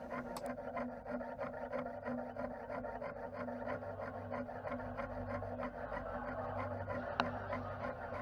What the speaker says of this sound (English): I'll start by trimming off the excess and getting it to the shape that I'd prefer.